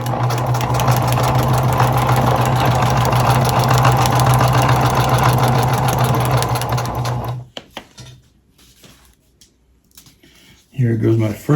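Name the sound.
sewing machine sewing a handle onto a feed bag tote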